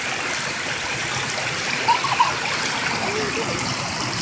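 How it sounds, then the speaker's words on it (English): Steady rushing water from a waterfall spilling over slick rocks, heard close by as a broad, even hiss with a couple of faint splashes, no voices. "The waterfall's right down there."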